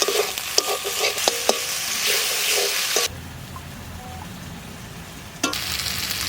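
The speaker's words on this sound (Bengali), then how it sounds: "এবার এটাকে ভালো করে কষাবো" A ground paste of cumin, coriander, ripe and dried chilli and black pepper sizzles loudly in a pan with brisk spatula scraping and clinks, then drops to a quieter, low simmer halfway through before one more sharp clink.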